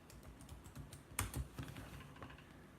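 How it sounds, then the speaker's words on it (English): Computer keyboard typing in a home setting: a run of light, irregular key clicks with a couple of sharper, louder taps near the middle, close up and alone with no talking. "I'm typing it in the damn address bar."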